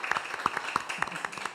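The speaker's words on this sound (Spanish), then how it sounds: "Un aplauso para ustedes" Audience clapping at a church gathering, a brief, moderately close patter of individual hand claps with a murmur of voices underneath.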